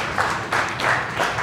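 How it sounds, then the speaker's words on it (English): Audience applause after a performance in a talk about who you can talk to about sex, moderately loud steady clapping in bursts with no voices over it. "give these guys a round of applause"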